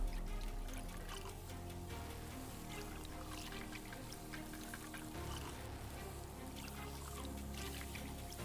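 Liquid poured slowly into distilled water in a container during silver removal from plated utensils, a faint, steady trickle over low background noise with a running fan.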